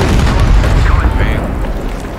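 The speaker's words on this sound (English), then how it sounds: "What we need is an artillery barrage." Heavy explosions from an artillery barrage in Battlefield V, a loud, deep rumbling boom that rolls and fades over a couple of seconds while players talk over it.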